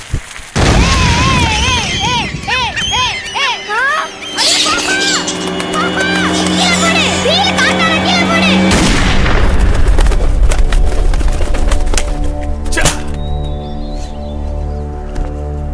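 In a scene from the Tamil film Ilai, gunshots ring out as a few loud, sharp bangs spaced several seconds apart. They cut through a background of music and voices.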